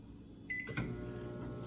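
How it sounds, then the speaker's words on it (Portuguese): A microwave oven starts heating a whey protein recipe, a faint, steady low hum with a brief beep and a soft click or clunk from the door. "Agora eu tô levando ao micro-ondas por 30 segundos."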